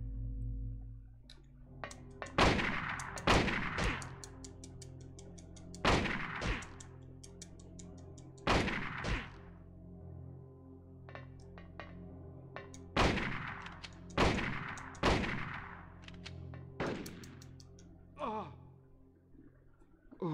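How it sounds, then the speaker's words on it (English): Gunshots from the Silent Hill video game, several loud sharp blasts spaced irregularly over about twenty seconds with a low ambient drone between them. "Why did she shoot me?"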